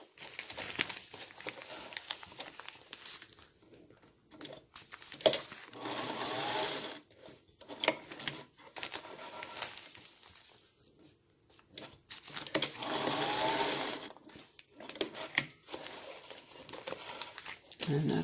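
A home sewing machine stitches TRP lines onto already pieced quilt units in several runs of rapid whirring, stopping and restarting with short pauses and light handling noises between.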